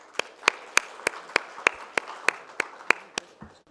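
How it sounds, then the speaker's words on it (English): Steady single clapping at a business summit, about a dozen sharp evenly spaced claps, close and moderately loud, with no talk over them. "Please join me in giving a huge round of applause to Ms."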